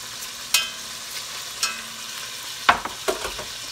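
Chunks of beef for old-school beef stew sear in a pot with a steady soft sizzle, broken by a few sharp clicks and scrapes of a utensil against the pot; no one speaks.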